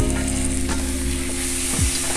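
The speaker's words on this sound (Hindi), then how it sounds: "प्याज को हमने हल्का भून लिया है। अब हम डाल देंगे शिमला मिर्ची और इसे भी हम थोड़ा सा भूनेंगे।" Onion, capsicum and tomato sizzle and crackle in hot oil in a pan for paneer bhurji, with a steady close frying hiss and a few stirring scrapes, no voices.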